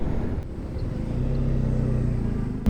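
Steady road traffic on a ring road near Lucknow, with continuous low engine rumble from passing vehicles throughout and no talk.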